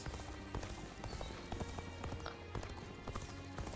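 Horse hooves clip-clop steadily in a quick, repeating rhythm while riding across the land in Dynasty Warriors Origins, fairly close and moderately loud, with no talking over them.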